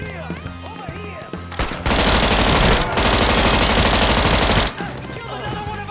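Mafia III gunfire, a sustained loud burst of rapid automatic fire lasting about three seconds, set between stretches of game music and ambient sound.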